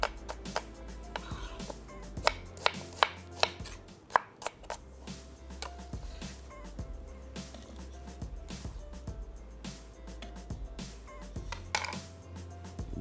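A knife chops a medium-small onion on a board, with a run of sharp, irregular taps, some louder thuds near the start, over a low steady background hum.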